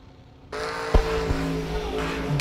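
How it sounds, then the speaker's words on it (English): Drag race cars, a Kia Soul against a Nova, launch and roar loudly down the strip, engines rising abruptly into a sustained, close, heavy drone with a sharp crack near the start. "Good, clean drag race once again."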